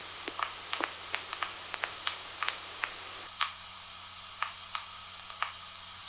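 Crackling radio tweeks from lightning picked up on a receiver, a steady run of sharp, irregular ticks and pops like falling water drops over a faint background hiss, dense at first and then sparser.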